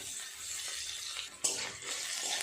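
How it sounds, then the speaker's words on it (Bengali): Chopped onion and tomato sizzle steadily in a hot pan, with a stirring scrape and a brief clatter midway, close and continuous without any talk. "পেঁয়াজটা কিছুটা ভাজা ভাজা হয়ে গেছে"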